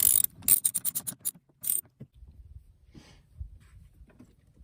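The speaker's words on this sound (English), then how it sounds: "Go ahead and tighten up that negative terminal." A socket ratchet with a 10mm socket and extension tightening the negative battery terminal on a pickup truck, giving a quick run of close, crisp clicks followed by softer handling and faint rustling.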